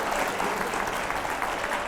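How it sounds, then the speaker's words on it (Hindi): An audience at a televised political discussion breaks into applause, a dense even wash of clapping at moderate level throughout, with no talking. "अगला जोरदार तालियों के साथ जरा प्ले ऑन करिए।"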